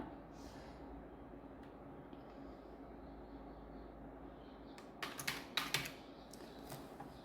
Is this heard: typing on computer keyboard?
yes